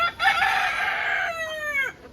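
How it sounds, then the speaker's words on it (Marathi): A single rooster crows nearby, a loud drawn-out call that trails off at the end, with no other sounds around it. "किती कोंबडे आहेत. कोंबड्या पण आहेत"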